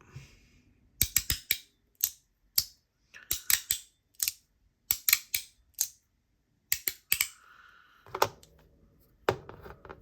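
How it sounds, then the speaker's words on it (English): Sharp hand-cut popping clicks from a knock-off fidget toy, snapping in quick bursts and pairs with short pauses between, close and crisp with no talking. "Listen to that hand cut pop."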